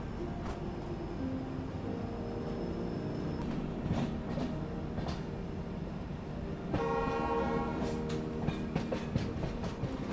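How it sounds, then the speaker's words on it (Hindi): Diesel locomotive train working a steep Indian Railways ghat section, a steady rumble of engine and wheels with several short horn toots scattered through, busier and louder toward the end. "अब यहाँ से आपको प्रॉपर डीजल लोकोमोटिव का एक्शन जो है वो दिखाऊंगा मैं।"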